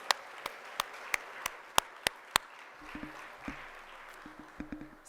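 Scattered, isolated hand claps from a few people at a thank-you reception, sharp and spaced irregularly, then a looser patter of claps toward the end.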